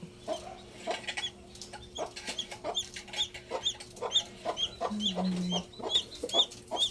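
A Dekalb Brown hen clucks repeatedly in low, rhythmic bursts while her chicks chirp in high, thin peeps close by, the two overlapping throughout.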